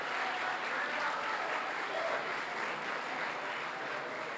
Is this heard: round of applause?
yes